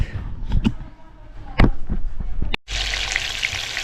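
Kangkong (water spinach) stir-frying in a pan with oyster sauce, a few scraping stirs and clatters, then a loud, steady sizzle as the greens hit the hot oil.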